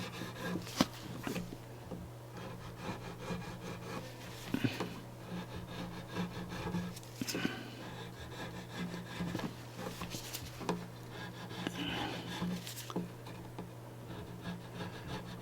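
A guitar fretboard scrubbed with oil to remove gunk: close, continuous rubbing and scraping strokes in an uneven rhythm over a low hum.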